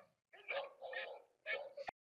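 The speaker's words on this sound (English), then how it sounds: "this is barking dogs going on in the background with Neep off" Several dogs bark and yip in the background during a microphone test with neep noise-cancelling software switched off, coming in three short bursts with brief gaps between them.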